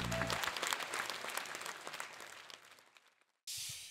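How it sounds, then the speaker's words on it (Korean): Audience applause at an outdoor festival event in Gwanghwamun, Seoul, welcoming a politician to the stage: dense, steady clapping that fades over about three seconds, then a burst of loud broadband noise at the end. "더불어민주당 곽상원 의원님을 큰 박수로 모시겠습니다"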